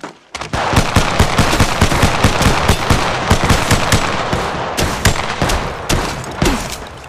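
Gunfire in a shooting video game played on a Google Pixel 6 plays as loud, rapid bursts of repeated shots that fire almost continuously, with brief pauses between volleys.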